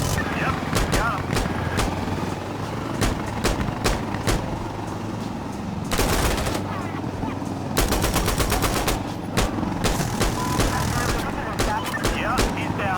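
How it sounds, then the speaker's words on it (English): Rapid gunfire from Insurgency Sandstorm crackles throughout, with sharp single shots and dense automatic bursts, loud and close over a low rumbling background and intermittent voices. "They're shooting at us."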